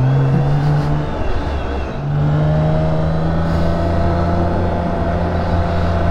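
A BMW K1600B motorcycle pulls away on a test ride, its engine drone steady and loud with a short dip before rising again, heard close with wind noise and no speech.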